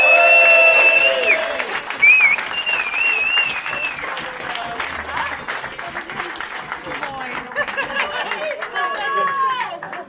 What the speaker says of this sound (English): Big round of applause for Team Henry!